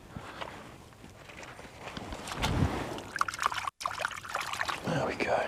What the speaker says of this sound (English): Just give them a bit of a slosh around in there just to get the worst of it out.